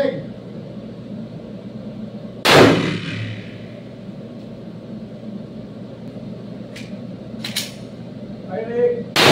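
Pistol gunfire at an outdoor shooting range: one sharp loud shot, then fainter cracks and clacks later, over a constant broad background hum.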